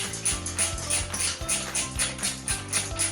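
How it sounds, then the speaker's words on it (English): A ratchet spanner loosens a 13mm rim lock on a Husky dirt bike tyre, giving a fast, close run of metallic clicks in quick bursts, with no talking. "I like using a ratchet spanner because it's so quick"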